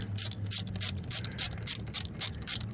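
A ratchet wrench undoes short old bolts on a 1967 Volkswagen Baja Bug wheel hub, giving a steady run of rapid metallic clicks in regular strokes, close and fairly loud.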